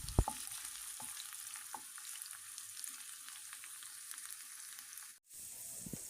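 Onions frying in oil until browned for khichuri, a steady soft sizzle with a few louder pops and stirring clinks near the start, continuing evenly before a brief break near the end.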